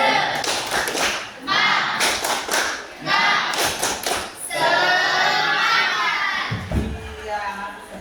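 Tepuk semangat, a rhythmic spirit clap done by a group in a morning class, sounds as patterned bursts of hand claps in several sets, with a teacher's voice and group chanting between and over them.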